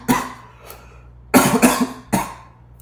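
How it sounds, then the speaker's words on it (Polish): Three separate coughing bursts from one person close by, sharp and loud with short gaps between them, heard alone with no talking. "Czasem jak mi kaszel ludzie złapie, to przez 10 minut cały czas kaszle."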